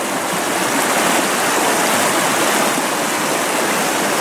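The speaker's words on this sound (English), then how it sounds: "As the water goes around these boulders, it leaves pools so the salmon can rest on their journey up." Water rushing around large boulders in a ravine fish passage for salmon, a loud steady broadband roar of flowing water, close and constant with no voices.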